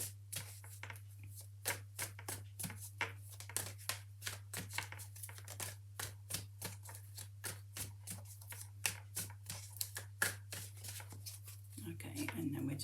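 A deck of Inspirational Wisdom oracle cards is shuffled by hand, giving a quiet, close run of crisp riffling snaps in a steady rhythm over a low background hum.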